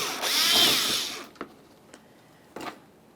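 A power drill backs a Phillips head screw out of the front bumper cover corner near the fender on a 2010-2013 Kia Forte Koup, a loud whirring burst followed by a few short, sharp clicks and taps.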